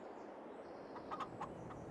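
Chickens in a Farming Simulator 22 poultry facility holding 250 birds give a few faint, short clucks in quick succession over a steady low background hum.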